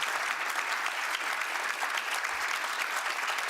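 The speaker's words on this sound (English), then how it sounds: "Nice round of applause for you." Dense, steady applause fills a town hall audience in New Hampshire, continuous broadband clapping from many hands with no voices over it.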